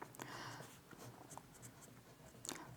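Pen scratching across paper while a maths teacher writes out an arithmetic progression term, with soft irregular strokes and brief taps, close and fairly quiet, no talking.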